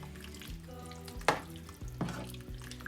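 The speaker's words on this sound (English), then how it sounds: "just let it simmer just a few more minutes" Chili simmers in a pot on the stovetop with a soft bubbling sizzle, while two sharper clanks of a spoon or utensil against the pot stand out briefly above a low steady hum.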